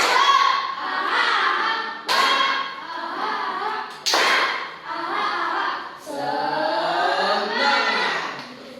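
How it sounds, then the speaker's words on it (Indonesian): Children in a classroom doing a rhythmic spirit clap: bursts of sharp claps land at roughly two-second intervals, with young voices chanting along between them. "kita tepuk semangat dulu ya. Tepuk semangat."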